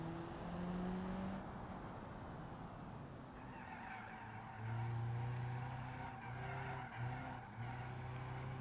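Car in the BeamNG driving game braking hard on a lap, with sustained tire squeal and skidding over a droning engine, in repeated long bursts and no talk.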